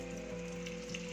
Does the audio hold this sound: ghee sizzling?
yes